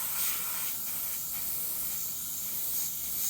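Steady hiss of an airbrush spraying India ink onto Claybord, running continuously, close and fairly even, with slight swells in intensity.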